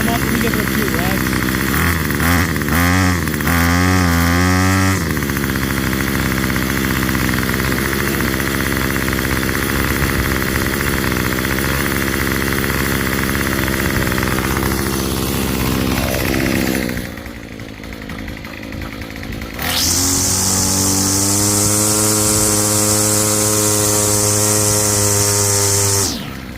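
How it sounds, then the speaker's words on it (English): A small two-stroke Remington string trimmer engine buzzes loudly and close, revved up and down repeatedly, dipping briefly to idle before screaming back to full throttle. "Give it a few revs."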